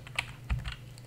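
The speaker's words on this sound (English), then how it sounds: "go to our other window and just type in" A few keystrokes on a computer keyboard, tapped out in a short, uneven burst at close range with no voices.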